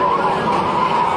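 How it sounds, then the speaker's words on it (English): A stock car's tires screech in a sustained, loud skid during a race, a continuous harsh squeal with engine roar; no distinct wall impact stands out. "that car number 9 got pushed hard into the wall"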